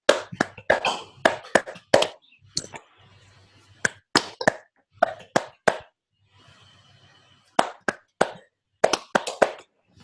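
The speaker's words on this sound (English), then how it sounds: "Let's do this clap together." Webinar participants clapping together in rhythmic groups of sharp, separate hand claps close to the microphone, with short quiet gaps and a faint hum between bursts.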